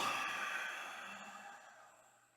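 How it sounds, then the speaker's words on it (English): One long, soft exhale during a home karate beginner class breathing exercise, a breathy airy rush that slowly fades away. "Inhale. Exhale."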